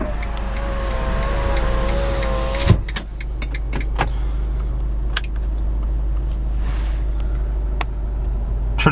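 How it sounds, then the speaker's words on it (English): Power window motor of a 2012 Fiat 500 Lounge Pink Ribbon Limited Edition whines steadily for about three seconds and then stops, followed by scattered clicks and soft cabin knocks over a low interior hum. "your power windows located in the center console"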